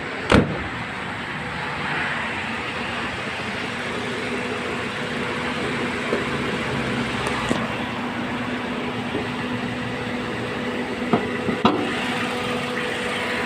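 A 2012 Toyota Yaris with automatic transmission idles steadily under the open hood, a constant close engine hum with a few faint clicks and no voices.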